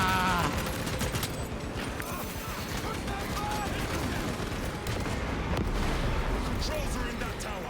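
Heavy, continuous gunfire and booming blasts fill a video game battle, loud and unbroken throughout, with a voice speaking over the din.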